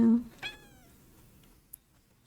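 Pet cats at home give one clear, drawn-out meow close by, its pitch bending as it fades, following a short low murmur of a human voice at the start and ending with a faint click.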